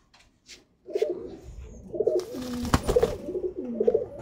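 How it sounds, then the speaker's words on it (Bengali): High-flying pigeon offered for sale in Serapur, Hooghly, cooing close by in a repeated rhythmic pattern of soft throaty calls, roughly one per second, with faint background noise. "অসাধারণ পায়রা।"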